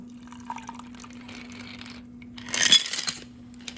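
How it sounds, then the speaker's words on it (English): Sparkling apple cocktail poured from a shaker into a to-go glass, a short fizzy splash and trickle of liquid in the middle, with quieter kitchen handling noises before and after. "Pour in our to-go glass to go deliver these."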